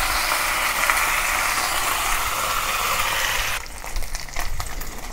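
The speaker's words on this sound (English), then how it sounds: "Continue pan fry the other side until it turns color." A pork chop pan-frying Hong Kong style, a steady loud hiss and sizzle of hot oil that suddenly drops to a quieter crackle with a few clicks and scrapes.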